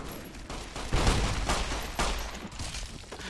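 Gunfire in the video game Fallout New Vegas, a dense burst of overlapping shots and impacts sustained throughout, loud and close with no talk over it.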